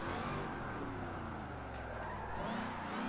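A car being driven through a drift run using shift-lock, weight transfer and handbrake techniques, its engine droning steadily and loudly throughout with a brief surge near the end.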